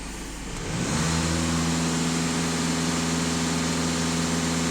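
A Skoda Superb diesel engine climbs from idle to a full-throttle rev and holds there, a loud, steady, droning roar with a strong low hum.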